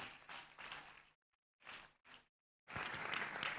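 Audience at a men's convention clapping for a speaker: bursts of applause that break off into short silences, then swell again loud and sustained at the end.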